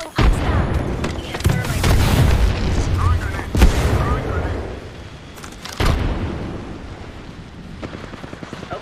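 Enemy gunfire in Apex Legends ranked play: bursts of sharp, loud shots and booming impacts scattered across the clip, mixed with battle noise and players talking.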